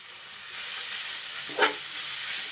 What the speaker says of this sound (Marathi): जसं आपण गाजराचा हलवा बनवताना गाजर थोडासा तुपामध्ये भाजून घेतो तशाच पद्धतीने आपला हा दुधी भाजून घ्यायचा